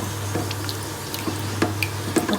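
Water from a glass poured into browned beef keema simmering in a pan, with a steady hum underneath and several short splashy drips and trickles spread through the moment; no one speaks.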